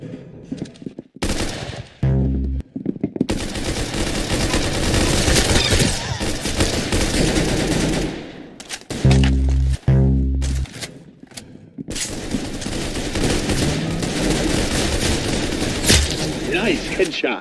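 Gunfire rattles through a shooter video game in dense automatic bursts and heavy fusillades, loud and close. Sharp booms punctuate the firing, and brief gaps fall between the volleys.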